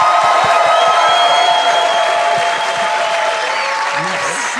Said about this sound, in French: Bonne main d'applaudissements pour Vincent C.